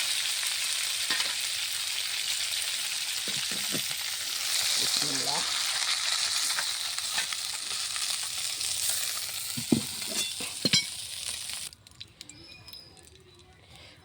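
Fish fries in a pan with a continuous close hiss and a few clinks and scrapes. A voice speaks briefly, and the sizzle drops away abruptly near the end.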